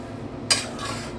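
A spoon presses modak dough against a kadai, giving one short metallic scrape midway against a quiet kitchen background.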